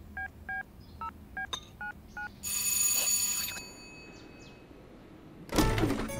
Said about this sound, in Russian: Сейчас я пошлю Снегурочке смс-ку.